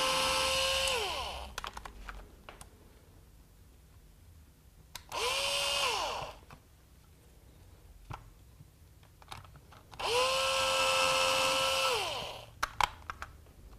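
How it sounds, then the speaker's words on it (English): Power drill boring a hole into an electric guitar body, three separate whining runs that spin up and wind down, first in reverse then forward, close and loud, with short quiet handling gaps between them. "I start the hole in reverse so that it centers itself, and I switch to forward and it'll stay concentric"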